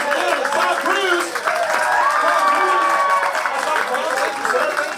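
Steady crowd applause at a live stage show, clapping continuing under overlapping voices and talk, fairly loud and unbroken.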